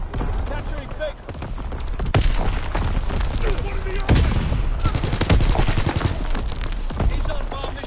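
Division artillery firing in a PS4 war video game, loud rapid bursts of gunfire and booming blasts packed densely throughout, with speech cutting in over the battle noise.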